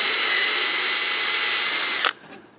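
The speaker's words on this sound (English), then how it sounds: "I'm just kind of going through and taking the screws out" A power drill backs screws out of a PVC tarp cover frame, whirring loudly and steadily for about two seconds before cutting off abruptly, leaving faint handling noise.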